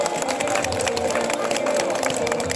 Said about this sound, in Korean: 우리 서로에게 박수 한번 주시다